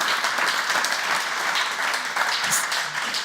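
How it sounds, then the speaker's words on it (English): Audience at a conference talk applauding steadily, a dense wash of clapping that stays even throughout with no voices standing out. "Big applause, yeah."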